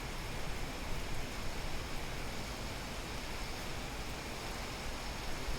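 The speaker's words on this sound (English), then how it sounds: "When you go inside, it actually just still rains." Steady rain falls in the Microsoft Flight Simulator 2020 sim at Wycombe Air Park, a dense, even hiss that holds constant and moderately loud throughout with no voices.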